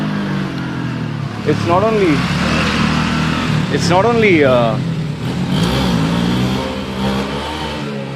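A motorbike racing past and pulling a wheelie, its engine revving in rising and falling sweeps at mid distance, heard beneath steady close talking.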